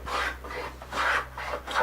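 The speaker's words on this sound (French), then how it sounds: "mes bois sont bruts de sciage, j'en profite pour casser un petit coup de rabot" A hand plane smooths rough-sawn wood in short rhythmic strokes, about four rasping passes in under two seconds, close and clear with no talk.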